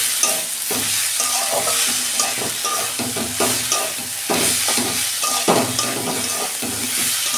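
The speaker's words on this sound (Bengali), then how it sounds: "আমি 2 মিনিট নেড়ে চেড়ে তারপর জল দেবো।" Amaranth greens (note shak) are stirred in a hot pan, with repeated close scraping and clattering strokes over a continuous frying sizzle.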